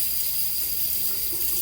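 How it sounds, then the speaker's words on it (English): Tap water runs in a steady, continuous hiss while wetting shaving soap in a sink, close and even throughout with no voices. "I'll have to add a little bit of water, it's okay."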